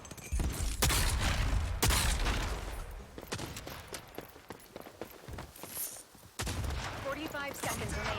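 Gunfire in Rogue Company near the end of a round: several sharp close shots and short bursts in the first seconds, then scattered quieter shots, footsteps and clatter, with faint game voice callouts.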